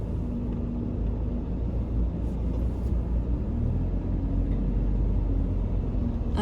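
Steady low rumble of heavy road traffic with buses passing on a busy street in Pyeongtaek, South Korea, a continuous dense engine drone heard from inside a moving car.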